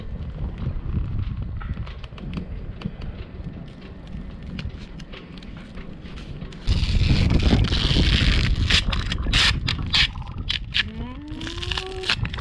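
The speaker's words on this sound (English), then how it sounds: "But it's got a bit windy" Gusty wind buffeting the microphone aboard a Bowman 46 sailing yacht, rough low-frequency roar that surges louder partway through, with scattered knocks and rustles of lines.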